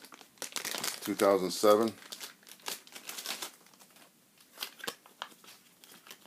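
Plastic packaging of a 1 ounce Great White Shark silver proof coin is unwrapped, giving close crinkling and crumpling in bursts, with a person speaking over and between the rustles.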